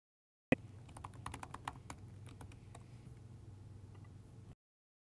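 Keys clatter on a computer keyboard as a username is typed, a quiet, close flurry of irregular taps lasting about four seconds, with no talk.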